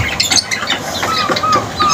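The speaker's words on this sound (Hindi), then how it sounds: "ये हमारी मुर्गियाँ हैं" Backyard hens squawking up close, a busy run of short harsh calls and chirps overlapping one another without pause.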